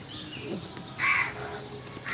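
A crow gives a single loud caw over a soft, steady outdoor hiss, with fainter bird sounds around it.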